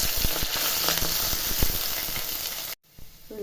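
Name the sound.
ginger and garlic sizzling in hot oil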